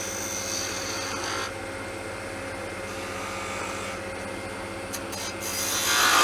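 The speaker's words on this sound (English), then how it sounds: "we're going to just take our spindle gouge and make that inside shape of the nose" A spindle gouge shaping a wooden gnome nose on a lathe gives a continuous close scraping, rasping cut over the steady hum of the spinning lathe, alone with no talk.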